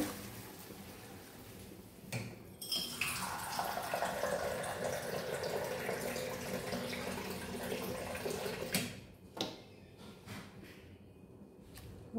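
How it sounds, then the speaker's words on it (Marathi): Water poured into a pot to cook rava upma, a continuous close splashing pour of several seconds that then tapers off into a few drips and clinks. "तर हे पाणी मी ह्यामध्ये टाकते."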